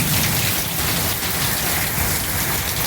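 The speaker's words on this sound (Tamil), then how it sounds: "மழை நின்ற மாதிரி தெரியல." Heavy rain pours steadily outdoors, a loud, dense, unbroken hiss of drops close by with no voices.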